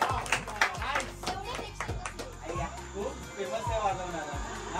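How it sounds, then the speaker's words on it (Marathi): A group of children clapping loudly in a Chembur chawl, with sharp quick handclaps in uneven bursts close by and voices talking over and between them. "टाळ्या टाळ्या जोरात जोरात एकदम."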